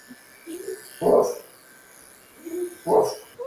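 A person imitates a dog barking indoors with two short, gruff vocal barks a couple of seconds apart, with softer voice sounds between them.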